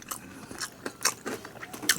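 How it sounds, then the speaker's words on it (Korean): Fried chicken being eaten up close, with repeated crunchy bites and wet chewing in an irregular rhythm, loud and near with no talking over it. "그냥 뭐 혼자서 먹는데 뭐 쩝쩝 편하게 먹는 거죠 뭐"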